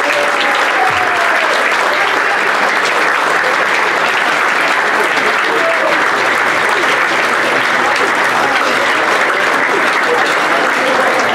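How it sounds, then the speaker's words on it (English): Audience at a Rovers football club season launch evening applauds loudly and steadily throughout, a dense, continuous wash of clapping filling the room with no break. "Give a big round of applause, folks."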